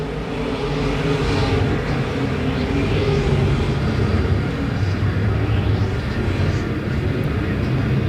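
IMCA modified race cars lapping Perris Auto Speedway dirt oval during a main event, a dense continuous roar of engines from a distance, with rising and falling passes swelling over the steady drone.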